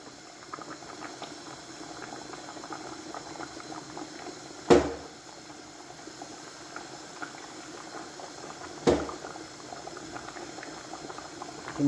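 Meat for dinuguan bubbling in a pot with foam forming on top, a steady low simmering burble of liquid with two sharp louder clanks or knocks partway through.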